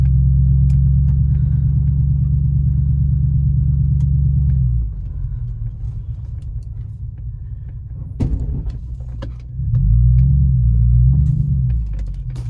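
A Lexus LS400 idles with a deep, steady rumble that drops lower midway, then swells again with a low revving surge, close and loud with no one speaking.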